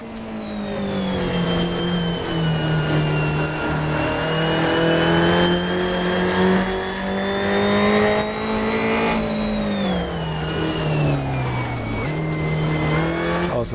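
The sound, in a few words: Alfa Romeo Giulia TZ2 race car engine on the Nordschleife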